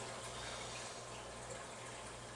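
Maple syrup poured from a jar, a faint, steady liquid trickle with a soft, even hiss and no clear breaks or splashes.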